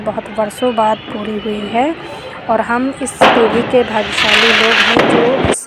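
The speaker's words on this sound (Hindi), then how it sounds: "पटाखे भी बहुत सारे फूट रहे हैं" Firecrackers burst during a city-wide celebration with the streets lit by lamps and lights, first sounding as scattered pops, then as loud, continuous crackling in the second half, while someone speaks over them.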